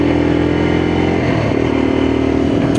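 Lexmoto LXR motorcycle, a 2024 new-version model, accelerating during a test ride, its engine drone loud and steady with a shift in pitch partway through as it builds speed.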